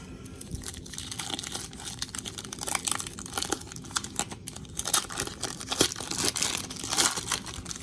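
Foil packs of 1999 Skybox Star Trek The Next Generation Season 7 trading cards are torn open with continuous close crinkling, ripping and rustling, with no talk.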